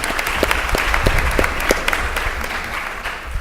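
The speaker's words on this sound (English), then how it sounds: "Let's give Deborah a round of applause for participating." A conference audience claps for a departing panelist after a panel discussion, a steady, dense round of applause from many hands, close and fairly loud, with no talking over it.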